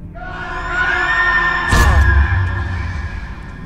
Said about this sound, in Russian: Некоторые называют это пением тоннелей.